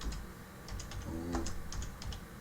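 Keys click in quick bursts as text is typed on a computer keyboard, a close, steady patter of light taps over faint room hum, with no speech.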